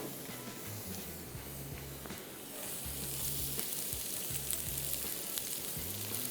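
Chopped onion fries lightly in oil for tomato sauce, giving a steady, faint sizzle and hiss close by. Soft stirring scrapes and low rhythmic knocks come and go across the sizzle.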